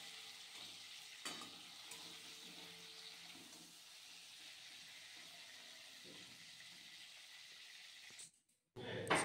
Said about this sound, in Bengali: আর বাকি মাছগুলো আমি ভেজে নিচ্ছি